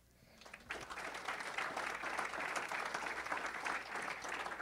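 An audience applauds at a Daemen College distinguished leaders event, the clapping swelling from quiet into a steady, dense roar that holds for several seconds.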